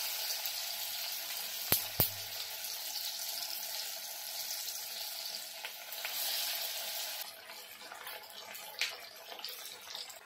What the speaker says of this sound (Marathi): तेल तापलंय, आपण वड्या सोडून घेऊया.